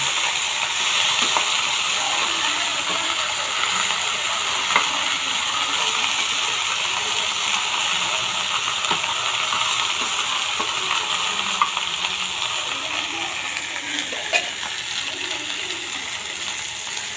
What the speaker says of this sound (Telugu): ఈ బెండకాయ ముక్కలు వేయించుకుంటాం.